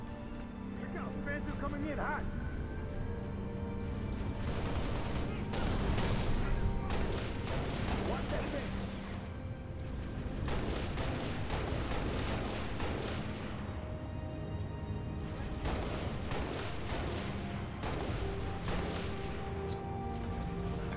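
Gunfire in the video game Halo: Reach, a steady stream of shots and bursts in a busy battle held at a moderate distance, with someone talking over much of it.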